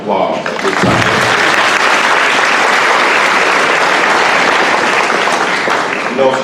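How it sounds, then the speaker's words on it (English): Sustained, loud audience applause fills the room steadily from start to finish, a dense wash of many hands clapping at once. "So give yourselves a round of applause at this time."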